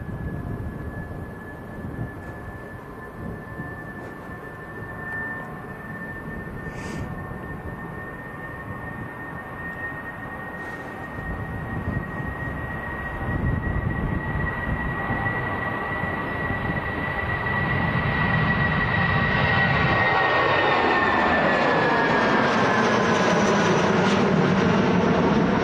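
A British Airways Airbus A319 airliner takes off at Manchester Airport, its jet engines building into a loud, steady roar with a high whine that swells and rises toward the end, heard alone without voices.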